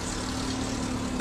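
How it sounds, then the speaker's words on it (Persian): A car with a torn factory exhaust drones harshly at a steady idle, a close, rough and continuous rumble with no talking. "صدای ناهنجار اگزوز."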